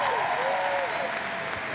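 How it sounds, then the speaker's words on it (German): An audience at a world premiere claps steadily, a dense, sustained wash of applause while a voice carries over it. "Das ist euer Applaus."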